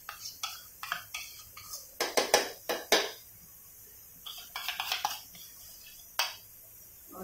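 Cream (malai) being stirred into a pan for methi malai matar, heard as a run of clinking, scraping spoon-on-pan knocks that come in irregular bursts with short pauses, close and fairly clear with no talk.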